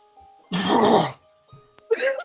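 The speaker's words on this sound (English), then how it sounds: "He has to clear his throat." A person clears their throat with a rough, gravelly rasp, followed by a shorter second throat-clearing sound after a brief pause; close and distinct.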